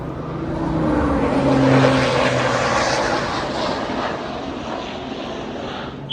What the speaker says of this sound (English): There's going to be a total of 3 planes coming overhead.